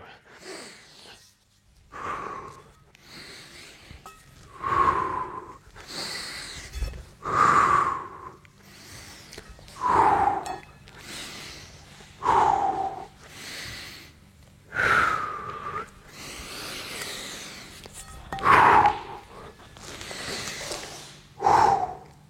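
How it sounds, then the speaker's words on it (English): Deliberately exaggerated heavy breathing during a steel mace flow workout, a series of about nine forceful exhales and sharp inhales in a steady rhythm, close and clear with no talking. "I did over-exaggerate it a little bit for you to be able to hear what's going on during that flow"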